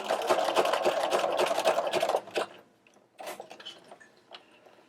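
A sewing machine stitches a freehand buttonhole into a denim jacket, running in a fast close buzzing burst for about two seconds, then pausing and resuming in short stitching spurts.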